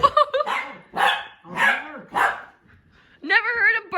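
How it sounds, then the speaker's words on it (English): A puppy gives a run of high, loud barks and yips close by, about five sharp barks with short gaps, then a longer whiny yelp at the end. "Never heard him bark yet."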